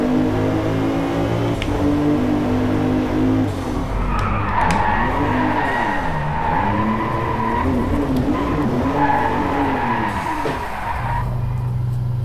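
Car drifting in the racing game Driveclub, running with reduced grip, its tires squealing in long wavering sweeps over a steady engine drone that continues throughout without pause.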